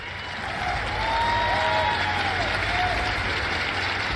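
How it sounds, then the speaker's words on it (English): Audience applause and light cheering for panelists at the Rainbow Six Siege Six Invitational, a dense wall of clapping that rises quickly and stays strong, with faint whoops and a low hum beneath. "keep that applause going for our panelists here"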